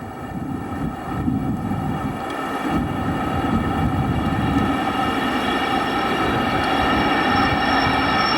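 A Sabena Airbus airliner roars steadily overhead, going around in a severe crosswind, a broad sustained jet rumble and whine that builds slightly in loudness, with no voices.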